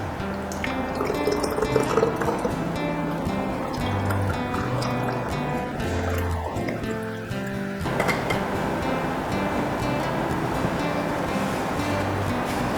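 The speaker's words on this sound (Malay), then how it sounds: "kita tuangkan kita punya jelly lumut tadi ke dalam bancuhan air" Moss jelly pours into a bottled strawberry drink mix with steady liquid splashing and glugging, interrupted by small plops and drips, close and moderately loud throughout.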